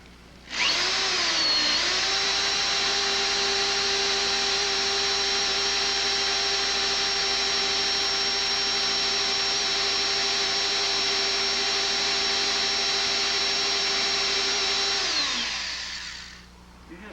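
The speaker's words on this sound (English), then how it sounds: "Pre-drill a hole." A power drill pre-drilling a hole with a sharp bit for an auxiliary fuel tank on a Honda ST1100 motorcycle whirs up and runs at a steady high whine for about fifteen seconds, loud and close, then winds down.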